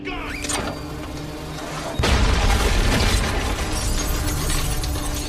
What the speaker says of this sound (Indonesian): Karena ledakan tersebut